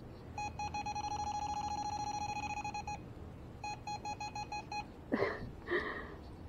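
A ghost hunting device emits a rapid string of electronic beeps, first a long continuous burst, then a shorter broken series, followed by faint breathy sounds nearby.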